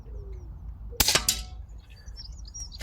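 An Anschutz 9015 HP Hunter air rifle fires a single sharp crack, then a quick echoing slap. Faint birdsong chirps in the outdoor background before and after the shot.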